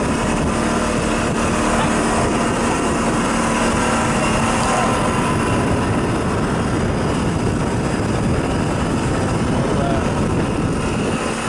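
A Nile motorboat engine drones steadily and loudly throughout with wind and water noise, a steady low rumble as the craft moves out.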